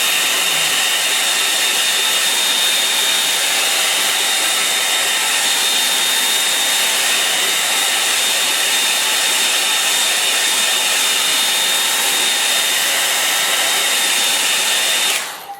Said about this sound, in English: I'm going to dry that now.